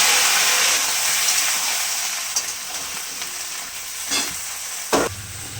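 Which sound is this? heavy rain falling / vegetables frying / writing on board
vegetables frying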